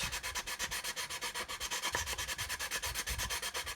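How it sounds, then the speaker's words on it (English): A sanding stick rubbed over a plastic part of an Airfix 1/72 Vulcan model kit, a quick, even run of soft back-and-forth scrapes in a steady rhythm, close and fairly quiet, with no talking. "we need to get a sanding stick and get in there and just sand this flat"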